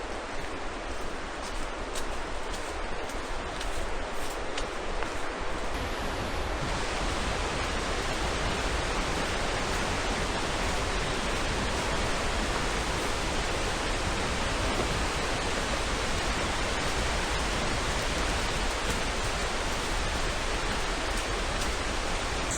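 A waterfall in Gorges State Park roars as a loud, unbroken wash of falling water, steady and close throughout with no talk.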